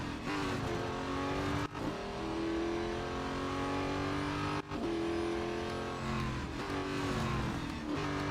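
An LMP race car engine in the Real Racing 3 mobile game, revving hard and climbing through gears with two brief dips at the shifts, loud and continuous with no talk.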